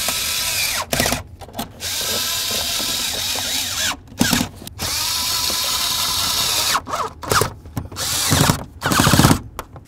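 Power drill snugging up mounting bolts under the dash of a 1994-2004 Chevy S-10, loud close whirring in repeated bursts of a second or two, separated by short pauses, with no talking.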